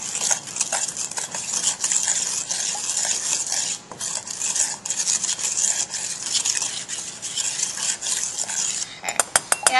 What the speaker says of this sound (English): Next, you can go ahead and just give it a little mixture with your spoon.